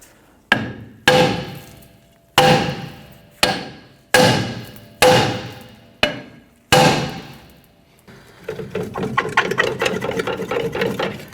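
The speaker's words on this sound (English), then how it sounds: "we're going to go ahead and use a hammer and we're going to strike around the edge of the drum" Eight sharp metallic hammer blows strike around the edge of a rear brake drum on a Chevrolet S10 pickup, each ringing and decaying slowly, followed by a rapid rattling clatter.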